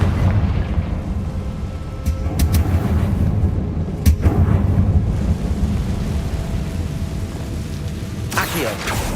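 A Confringo blast spell going off in the Hogwarts Legacy video game, booming and rumbling over a steady bed of game noise, with several sharp bursts and a crackling flare near the end.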